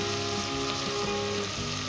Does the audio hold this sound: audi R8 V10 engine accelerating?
no